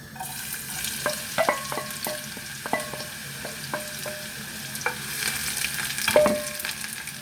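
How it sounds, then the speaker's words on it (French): Onions added to a pan with Morteau sausage cooking in its own fat, sizzling steadily while a utensil stirs and taps against the pan in irregular clicks, sizzle swelling louder near the end. "Allez, là on met les oignons."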